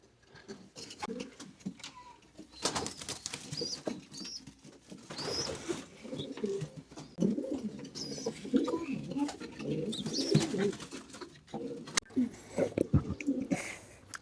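Young pigeons in a loft coo softly and repeatedly during trap training, with occasional bursts of wing flapping, all close but fairly quiet, with a few soft voices in the background.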